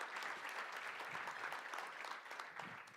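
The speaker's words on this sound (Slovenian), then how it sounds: "Aplavz si zaslužita 2 dami" An audience at a business breakfast applauds with soft, even clapping that fills the room and fades slightly near the end, with no talking.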